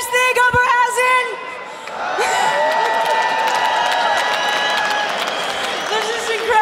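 Sold-out fight crowd in an Oberhausen, Germany arena cheering and applauding after a GLORY kickboxing title bout, a sustained roar of cheers and whoops, with a voice speaking over it.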